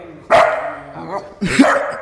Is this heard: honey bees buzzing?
no